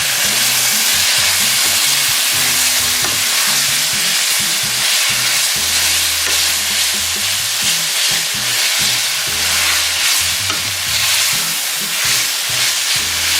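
Garlic sizzles loudly and steadily in a hot pan, a continuous close hiss with faint low clatter underneath and no voices.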